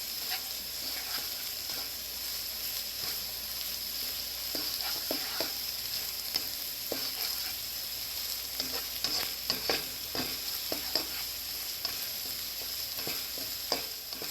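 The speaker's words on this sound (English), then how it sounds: "I'm gonna saute that for about a minute." Shallots sauté in a pan over medium-high heat, a soft steady sizzle with scattered light stirring clicks throughout, close and fairly quiet with no talking.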